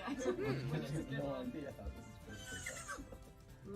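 A human actor's voice imitates a horse whinny for The Sims, a wobbling, rising-and-falling neigh delivered close and loud, lasting a few seconds with vocal breaks and a brief chortle-like ending.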